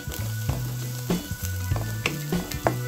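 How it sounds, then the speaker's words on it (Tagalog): Garlic fries in oil in a pan, a close crackling sizzle punctuated by regular scraping and stirring knocks about every half second, alone without any voices. "Okay, ito na po yung ating bawang at brown na siya."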